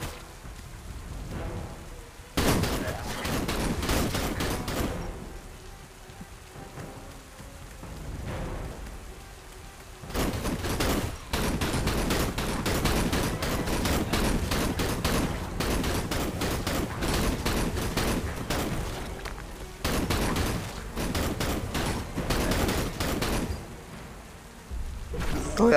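Gunfire against zombies in the survival game Lost in Blue, dense bursts of rapid shots that come in long stretches with short pauses between them, loud and crackling throughout with no talk.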